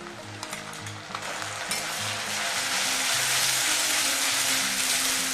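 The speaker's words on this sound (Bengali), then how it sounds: "এটা এখন হাই ফ্লেমে ভালো করে ভেজে নেব" A paste of ginger, garlic, chilli and onion fries on high flame, a loud, close, hissing sizzle that swells and steadies, with a few stirring knocks near the start.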